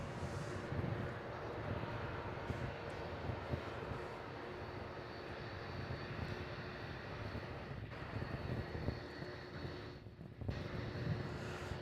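A Qantas airliner from Brisbane lands on runway 16 at Melbourne Airport, giving off a steady, fairly distant broadband jet roar that lasts throughout, with no talking.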